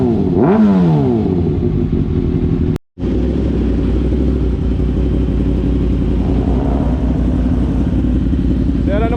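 Kawasaki ZX6R with a newly installed Orion exhaust muffler revs loudly up close, a deep rumbling idle punctuated by sharp throttle blips, one brief cut in the middle and voices faintly under the engine.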